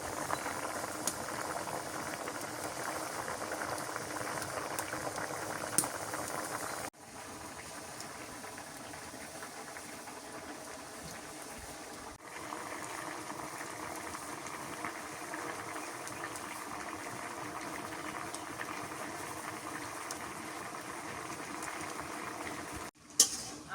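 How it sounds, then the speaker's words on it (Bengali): Potatoes and black lentils boil in a pot in a village kitchen, giving a continuous soft bubbling and seething hiss with a few faint clicks and knocks. "আলু আর কালাই সিদ্ধ হয়ে গেছে"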